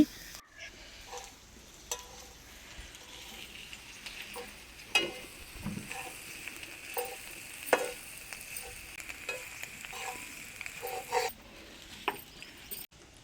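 Cabbage and egg burji stirred in a hot pan, a soft steady sizzle with repeated scraping strokes and light taps of the spoon against the pan, close and without talk.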